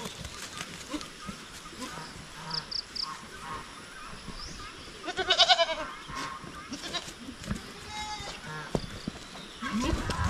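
Goats, including a Jersey Giant buck named George, on a rainy farm: several bleats near and far among shuffling hooves and rustling, with a person talking at times.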